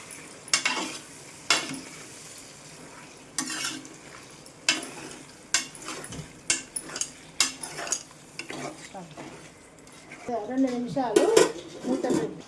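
Tripe (boti) curry stirred in a pan with a utensil, scraping and clanking against the metal in irregular bursts with pauses, a soft sizzle underneath and busier stirring near the end.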